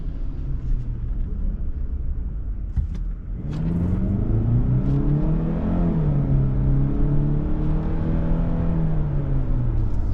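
A 2025 Kia Sportage XPRO compact SUV engine revs up after a brief lull, its pitch climbing and dipping through downshifts in a steady, close, continuous drone with no talking.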